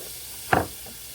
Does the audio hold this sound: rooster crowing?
no